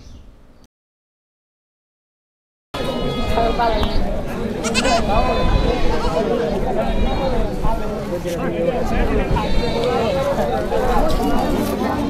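Native goats bleat at a rural village market in Kaitla, Mirzapur, Tangail, with repeated calls rising over a dense crowd hubbub and nearby talk after a brief silent gap at the start.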